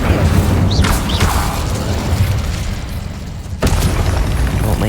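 An Incendio fire spell cast in the Hogwarts Legacy video game, a loud, steady roaring and rumbling burst with a sharp flare-up near the end and no talking.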